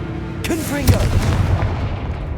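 Confringo spell explosion in the Hogwarts Legacy video game, a sharp blast followed by a second heavy boom and a rumbling tail, loud and close, with a brief voice sound near the start.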